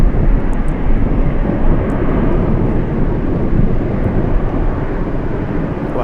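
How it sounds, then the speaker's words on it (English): A cargo Boeing 747 moving at Anchorage airport in gusty wind makes a loud, steady jet roar with heavy low rumble and wind buffeting, sustained for several seconds with no voices. "Cargo Log 747 on the move, flying to Guadalajara"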